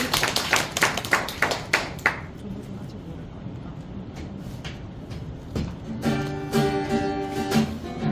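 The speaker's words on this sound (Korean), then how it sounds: "박수!" An audience claps in sharp bursts at a singing group's concert, then the clapping thins and music with a voice comes in near the end.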